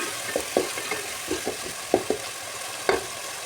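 Intermittent spoon scrapes and stirring clatter as chicken gravy is sautéed in a sizzling pan, with soft frying hiss underneath and no voices.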